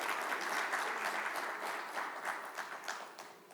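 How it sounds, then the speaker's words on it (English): An audience at a business summit applauds in a steady wash of many hands clapping, sustained for several seconds and slowly tapering, heard from a distance with no voices over it. "can we please have a huge round of applause"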